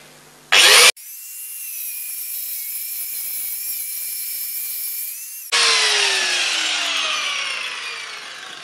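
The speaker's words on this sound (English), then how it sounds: "I'm going to grind away from my camera." A power grinder cuts out old mortar pointing between bricks, a loud steady high-pitched whine after a brief burst at the start, then a harsher grinding tone as the disc bites into the joint.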